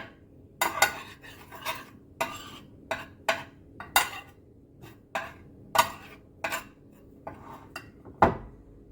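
Spoon scraping and clinking against a deep bowl while a chicken zinger mixture is stirred, a steady run of sharp, close metallic strokes roughly every half second, with no talk.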